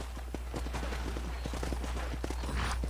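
Horse hooves clip-clopping in Red Dead Redemption, a quick steady rhythm of near hoofbeats over a low constant hum, with a brief soft rustle near the end.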